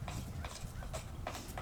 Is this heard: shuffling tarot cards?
no